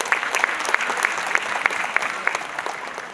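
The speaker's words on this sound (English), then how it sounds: "So you all deserve a good round of applause for yourselves." A crowd of parents at a school annual day applauds, sustained clapping that is fairly loud and even with a few sharper individual claps standing out.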